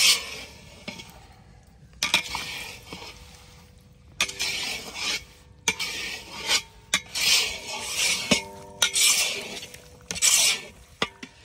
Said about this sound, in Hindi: सूजी को अच्छी तरह भून लेंगे